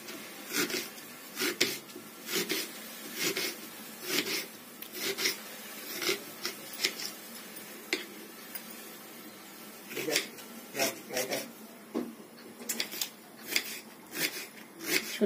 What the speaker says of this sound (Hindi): छोटे छोटे प्याज काटेंगे।